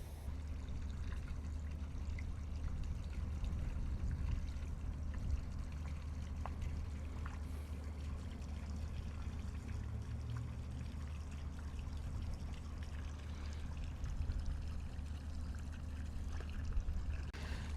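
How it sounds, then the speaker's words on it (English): A small fountain in an outdoor sculpture at a campsite splashing and trickling steadily nearby, a continuous watery patter under a low background hum. "this sculpture even got a little water fountain, kind of looks like a small shower"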